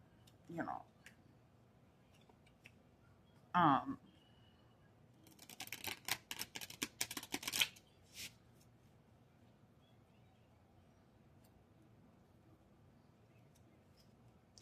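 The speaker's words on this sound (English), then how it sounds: "So let me just shuffle up the cards here." Cards being shuffled nearby, a quick riffling burst of crisp flutters after a couple of soft handling taps, then quiet.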